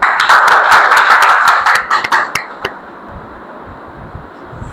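An audience gives a welcoming round of applause for a guest at an interview, dense clapping for about two and a half seconds that thins to a few scattered claps and fades into quiet.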